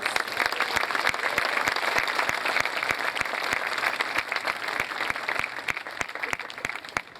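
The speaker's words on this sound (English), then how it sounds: "let's have a big round of applause for our families who have always been there for us" A crowd at a 2019 middle school promotion ceremony gives a big round of applause for families, sustained dense clapping with sharp individual claps punching through, steady and fairly loud before easing slightly near the end.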